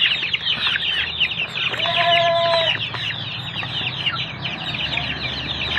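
Farm ducks kept in a rural province yard, a dense chorus of loud overlapping quacks and clucking calls close by, with a brief flapping burst partway through.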